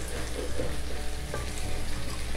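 Hotdog afritada sizzles and bubbles in a cooking pot while being stirred, a dense steady frying hiss with soft scraping, close and fairly loud, no talking.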